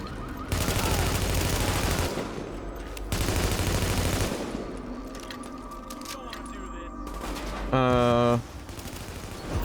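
Gunfire in Tom Clancy's The Division striking an SUV, several loud bursts of automatic fire in separate volleys, ending with a short tonal alarm-like blare, with speech at times.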